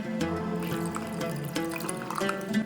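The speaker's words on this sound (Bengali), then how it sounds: "এর সাথে মিশিয়ে দেব আরো হাফ কাপ জল।" Half a cup of water poured into a batter mixture in a home kitchen, a continuous trickling, splashing pour with rising tonal filling notes, close and clear, no talk.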